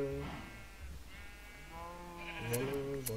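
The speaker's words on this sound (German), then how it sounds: "Sind das eigentlich graue Schafe oder weiße?" Sheep in a video game bleat several times, a wavering, tonal call near the start and longer overlapping bleats later, close and clear over a low background hum.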